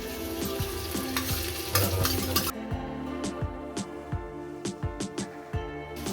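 Ginger paste sizzling in hot oil in a pot while a spoon stirs it, steady frying hiss under sharp metallic scrapes and clinks against the pot, close and continuous.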